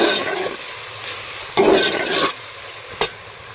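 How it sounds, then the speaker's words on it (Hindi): Tomatoes and green chilies hitting hot garlic ginger paste in a pan for chicken pea pulao, loud close sizzling in bursts with stirring scrapes and a sharp clatter near the end, no talking. "अब हम इसमें टमाटर और हरी मिर्च डाल देंगे।"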